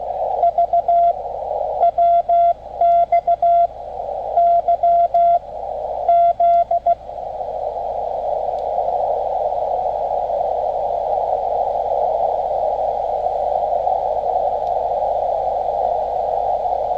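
A Morse code CW jammer signal heard on a ham radio band, sending a loud, steady tone in rapid keyed bursts of dots and dashes that then holds as one unbroken drone, over faint static with no talking.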